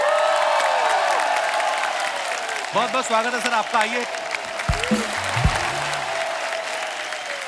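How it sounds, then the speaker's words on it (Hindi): Studio audience applause on a Hindi TV comedy talk show welcomes arriving guests, steady and dense throughout, with a host speaking a greeting over it and music starting underneath toward the end. "आप सबकी तालियां ऐसे बजती रहनी चाहिए।"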